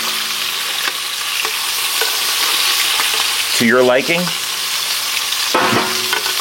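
Lamb sizzles steadily in a hot pan while being stirred, with a brief spoken phrase in the middle and scraping clicks of a utensil.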